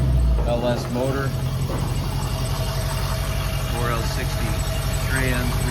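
A rebuilt 5.3 LS V8 in a 1948 Chevy 3100 five-window short-bed patina shop truck idles steadily with a low, even rumble, while people talk over it.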